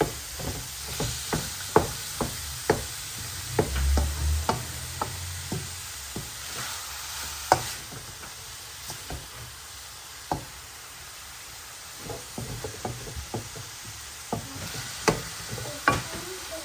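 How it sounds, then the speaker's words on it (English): Onions stirred into browning mince in a pot for chilli con carne, a low sizzle under irregular scraping and knocking of a spoon against the pot, close by. "Get a good mix, get all the onions mixed into it."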